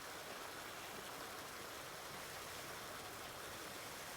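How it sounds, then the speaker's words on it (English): Water runs steadily into pig troughs in Farming Simulator 19, a constant rushing flow with no breaks, fairly quiet and alone. "Fill the water troughs up."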